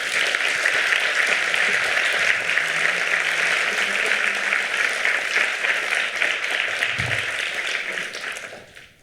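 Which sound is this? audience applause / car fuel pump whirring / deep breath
audience applause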